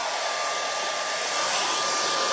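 A hair dryer blows on a spring floral craft mason jar, giving a loud, even rushing whir that holds steady throughout with no voices.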